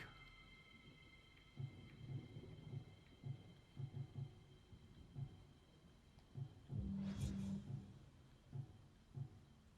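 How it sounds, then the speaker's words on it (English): Lightning strike in Othercide on PS5, a faint, distant thunder rumble rising and fading midway, set against soft rhythmic low thumps and a quiet ambient drone. "Lightning strike."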